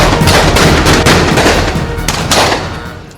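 Rapid gunfire from a Roblox roleplay game, loud dense volleys of shots fired close together that fade slightly toward the end.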